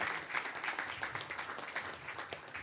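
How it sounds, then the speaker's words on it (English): Audience applause for the Surrey Children's Choir at an arts and business awards ceremony, a steady wash of many hands clapping at moderate level, fairly distant and without voices. "a round of applause for Surrey Children's Choir"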